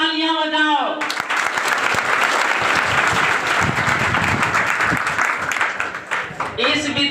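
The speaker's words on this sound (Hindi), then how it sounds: "इस 35 फर्स्ट डिवीजन पर तुम लोग तालियां बजाओ।" A crowd of students bursts into loud, sustained applause at a school ceremony honouring matriculation students, the dense clapping running for several seconds after a voice over a loudspeaker and fading as the speaker resumes at the end.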